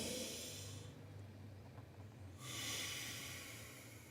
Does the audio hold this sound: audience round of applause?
no